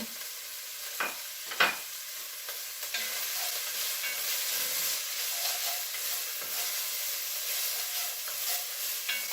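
Vegetables sauté in a pan for spicy white chili, giving a steady close sizzle with a few sharp stirring clicks and scrapes early on and no voices.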